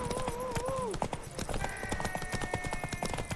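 Horse hooves clip-clop in a rapid, even gallop in The Witcher 3, with a whinny at the start and a game voice briefly over the rhythmic hoofbeats.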